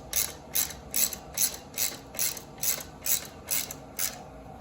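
Ratchet wrench tightening a spring bolt on a 2019+ Honda CRF110F motorcycle during a BBR spring swap, about ten evenly spaced clicking ratchet bursts close to the microphone, with no talking.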